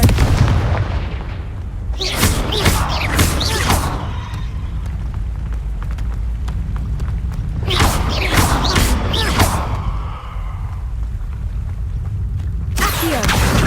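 Spell blasts fired in the Hogwarts Legacy video game, heard as bursts of loud broadband booms and crackling impacts in two clusters with a lull between them and another at the end, over a steady game rumble.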